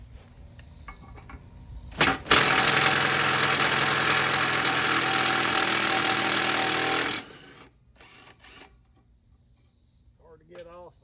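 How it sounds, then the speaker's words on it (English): An impact driver with a 5/8 socket hammers loose the blade bolt on a Craftsman mower deck, a loud, continuous rattling burst lasting about five seconds, preceded and followed by quieter handling noises. "And this is why you want an impact driver."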